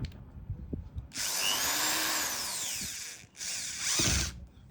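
WADFOW WED15281 electric screwdriver at a low torque setting, its clutch slipping while it runs. Two close bursts of whirring, one about two seconds long and then a shorter one, with a ratcheting buzz and small clicks between them.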